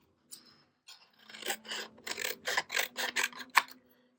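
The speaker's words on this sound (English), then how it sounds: "I could cut this part off down here" Scissors snip through a dried fern stem for a December daily journal page, giving a close run of about eight crisp, rasping cuts in quick, slightly uneven rhythm, quiet overall with no talking.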